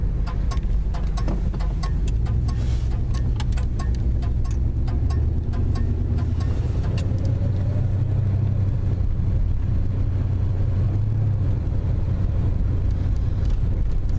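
A 1974 Plymouth Valiant with a slightly flaring automatic transmission drives along, its engine rumbling steadily inside the cabin and rising and dropping in pitch as it shifts gears, with wind and road noise throughout.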